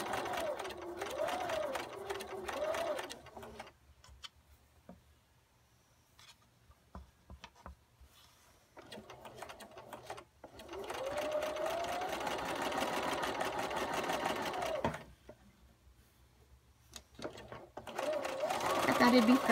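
A sewing machine stitches a quilt square for a beginner constellation quilt in an RV, its close, steady whirring running in bursts separated by pauses, with a person talking over parts of it.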